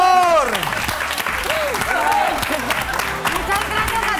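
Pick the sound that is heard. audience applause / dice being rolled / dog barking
audience applause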